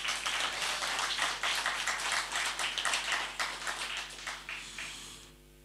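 Audience at a Swedish panel evening applauds steadily as a speaker walks up, a dense wash of many hands that holds for several seconds and then fades out toward the end.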